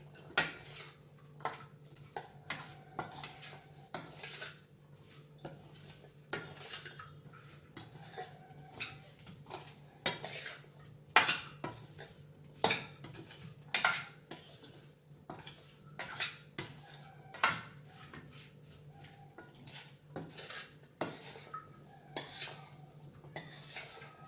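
A spoon stirs and clatters in a bowl as ingredients are mixed for mustard chilli raita, many quick irregular clinks and scrapes up close.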